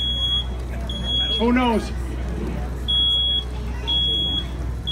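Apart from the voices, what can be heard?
smoke detector alarm sounding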